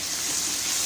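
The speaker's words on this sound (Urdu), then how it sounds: "اب اس کے ہم نے جو ہے نا 5 منٹ بھنائی کرنی ہے۔" Ground ginger-garlic paste sizzling in hot oil for chana biryani, a steady close frying hiss with no talk.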